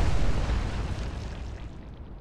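A single heavy boom from a warship's rear guns firing in a naval combat game, loud and deep at the start and then rumbling away over about two seconds.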